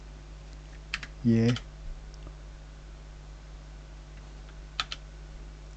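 A computer keyboard is struck in a few isolated, close clicks, with a key press for pasting and one for Enter, while a brief spoken word cuts in under a steady low hum.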